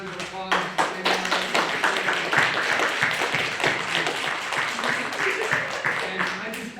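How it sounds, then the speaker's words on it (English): A crowd claps steadily throughout, dense and sustained applause with a few voices audible underneath, at a writers' reading event. "Let's give another big round of applause."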